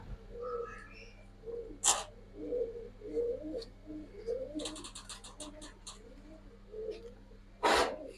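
Silver Giribaz pigeons, an old-breed fancy pigeon, give soft repeated cooing murmurs throughout, close by, with a few sharp noisy bursts and clicks over a steady low background hum.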